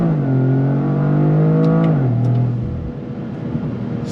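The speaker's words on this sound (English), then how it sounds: "On throttle, first gear." A 2025 Toyota GR Corolla pulls hard in first gear, its engine note climbing steadily in pitch, then dropping sharply as the revs fall and the exhaust settles into a lower, rougher drone, loud and close throughout.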